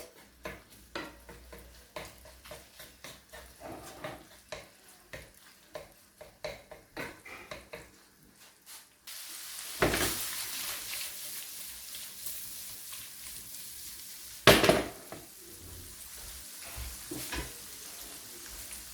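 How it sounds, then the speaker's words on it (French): Shrimp dropped into hot oil for a seafood pastilla filling, with irregular stirring and scraping clatter at first, then a louder, steady sizzle that swells after the shrimp hit the pan, marked by one sharp clack. "Une fois l'huile est chaud, je mets mes crevettes."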